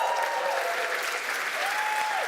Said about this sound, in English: you can applaud as loudly or as quietly as you would like